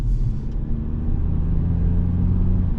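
A 2024 Kia Forte GT sets off for a drive, its engine giving a steady, fairly loud low rumble from inside the car with a faint rise in pitch, and no voices over it.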